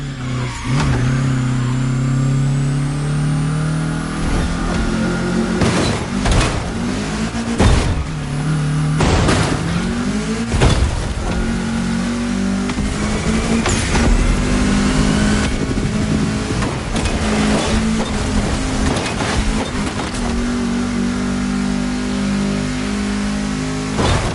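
A car engine in The Crew Motorfest, driving through a state capital city, revving and accelerating loudly and continuously with repeated gear shifts and occasional booming thumps, close and with no voices.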